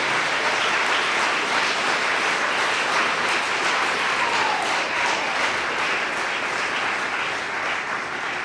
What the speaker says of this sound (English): if we could have a round of applause for the whole group